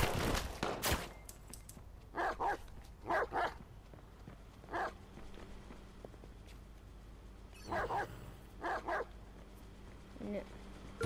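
A dog barks in short yapping bursts during Watch Dogs 2 gameplay, repeated bark clusters spaced across the stretch, with quiet talk and game noise underneath.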